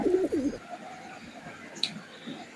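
Pigeons in a loft with newly paired birds, cooing in low throaty bursts at the start, followed by quieter rustling and faint background sounds.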